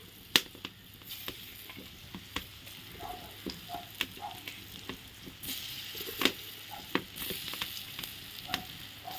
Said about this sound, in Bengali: একই তেলে আমি আবার পরেগুলো দিয়ে দিচ্ছি